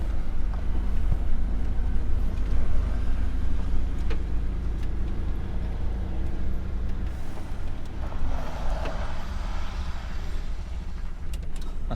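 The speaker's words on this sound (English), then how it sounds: "That's my trailer brakes locking up." A truck's trailer brakes lock up on loose gravel, giving a low rumbling scrape and hiss under the steady drone of the truck's engine, close and continuous with no talking.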